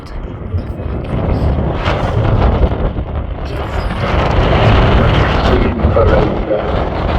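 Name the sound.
strong wind blowing at Manchester Airport viewing point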